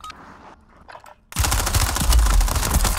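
Automatic gunfire in the video game Call of Duty Warzone erupts after a quiet moment, a loud, sustained rattling burst of rapid shots that fills the rest of the clip.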